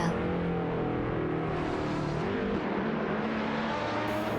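Race cars in an AI racing video game overtaking one another, a steady layered whine of engines running together at moderate volume without pause.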